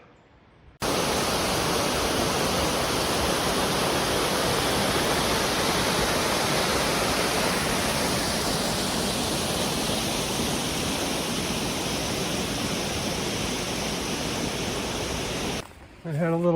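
Long Creek Falls, a waterfall on a mountain hiking trail, roars as a steady, loud, broadband rush of falling water, close and continuous from start to finish with no talk over it.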